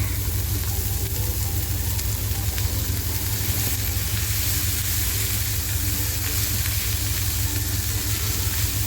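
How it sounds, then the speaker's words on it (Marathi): Fenugreek leaves go into a browned onion tempering in a hot pan for a prawn curry, producing a steady, loud, continuous sizzle and frying hiss throughout with no talking. "आता जी मेथी घेतली आहे ना ती मी मेथी याच्यामध्ये टाकते"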